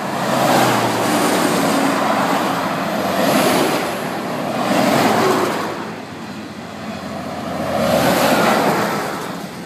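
A long train passing by outdoors, a broad rushing rumble that swells and fades in slow waves as cars roll past, loud and close, with no talking.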